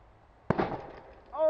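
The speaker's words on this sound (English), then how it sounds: "Testing the P grenade at East Coast Airsoft." An airsoft grenade goes off outdoors at an airsoft field: one sharp, loud pop followed by a short fizzing, crackling tail that fades, then a brief voice at the end.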